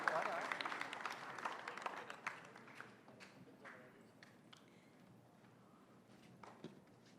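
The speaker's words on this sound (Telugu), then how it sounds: "ఒక్కసారి గట్టిగా claps for this beautiful combination." Audience applause at a film team's Friendship Day celebration: a dense burst of clapping that is loudest at the start, thins out after a few seconds, and continues softly with some crowd noise.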